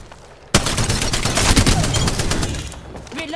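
Sudden heavy gunfire in Apex Legends breaks out and keeps going as a dense, loud rattle of rapid shots for about three seconds, with no talking.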